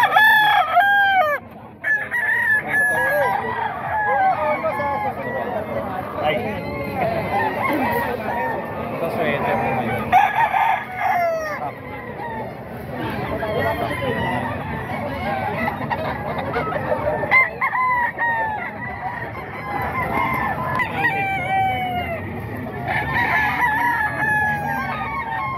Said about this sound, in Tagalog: Ito mga manok pa ito ni Boss Jun mga boss.